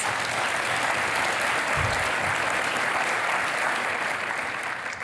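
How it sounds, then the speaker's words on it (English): Audience at an innovators event gives a sustained round of applause, dense even clapping from a crowd that stays level before easing off at the very end. "Let's give them a round of applause."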